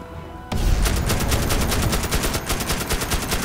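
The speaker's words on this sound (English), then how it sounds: "Put out another machine gun." Rapid machine gun fire in the video game Magicka, a loud sustained burst of evenly spaced shots that starts abruptly after a brief quiet moment and runs continuously to the end.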